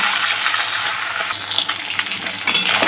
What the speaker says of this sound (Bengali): এবার ভেঙে ভেঙে ভেজে নেবো সুন্দর করে।